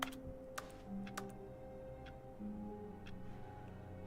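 Soft, quiet keyboard typing from The Stanley Parable video game, a few scattered clicks and taps over a low steady hum, with no voices.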